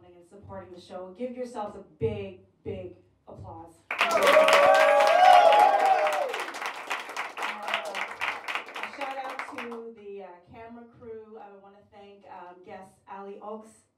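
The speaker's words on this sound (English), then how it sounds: "Give yourselves a big, big applause." An audience at a live show in New York City breaks into loud, sustained applause and cheering for about six seconds, framed by someone speaking into a microphone before and after.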